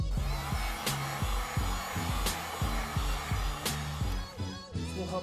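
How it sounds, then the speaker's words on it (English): A hair dryer blows with a steady whooshing roar, warming a carbon fiber device skin during installation, interrupted by a rhythmic series of low thumps and a few sharp clicks. "warm the skin one more time with a hairdryer."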